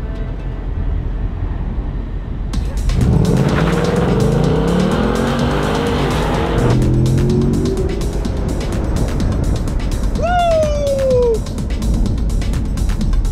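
Sports cars race through Los Angeles streets in economy mode, with steady engine drone, a loud burst of revving and acceleration midway, then tire squeals and a rising whine near the end.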